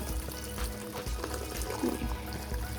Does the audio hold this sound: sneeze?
no